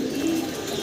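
Pigeons cooing close by, a soft low warbling coo that fills the short moment alone.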